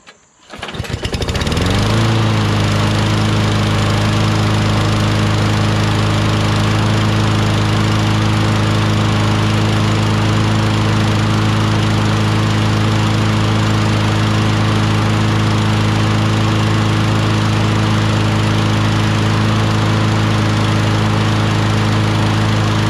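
A John Deere JS26 self-propelled lawn mower with a Briggs Quantum 6.75 engine fires up after a brief start and settles into a steady, loud, close running drone that holds without interruption.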